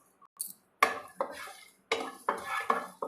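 A spoon scrapes and stirs cumin and fenugreek seeds dry-roasting in a metal pan, giving sharp clattering bursts with short pauses between them.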